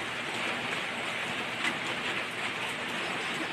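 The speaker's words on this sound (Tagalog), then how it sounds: "Yung ulan po pabugso-bugso, malakas, hina" Steady, gusty rain shower hisses down in a dense, even wash of noise, neither growing nor fading, with no voices.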